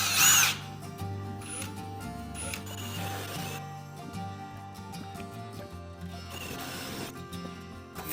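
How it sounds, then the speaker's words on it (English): A power drill bores into a cabin wall during wiring work, its motor whine steady and close with short pauses, bursts and changes in pitch as the bit bites, plus some clatter from the tool and handling. "we're going to do our drilling"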